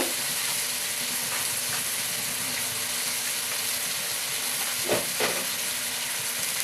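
Mutton curry masala with tomato, garlic paste and Kashmiri chilli powder fries in a pan with a steady, loud hissing sizzle throughout, broken near the end by a couple of stirring scrapes.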